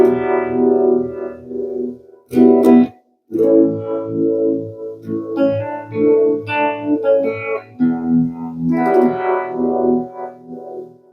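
Electric guitar played through a Keeley Dark Side effects pedal, sustained chords and single-note lines with a swirling, modulated distorted tone, loud and up front with no talking.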